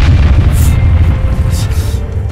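A loud, deep rumbling boom of a car exploding in the video game Arma 3 fills the whole clip, a sustained low-end blast with some faint speech underneath.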